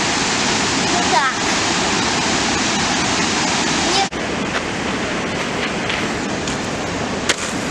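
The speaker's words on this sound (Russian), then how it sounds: "Тебе нравятся все водопады?" Waterfalls in Letchworth State Park roar as a dense, constant wash of falling water, loud and close, with brief voices heard faintly under the rush.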